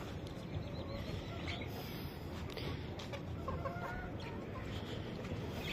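A chicken clucks softly on a farm, a few faint scattered clucks over steady wet background noise, with no talk.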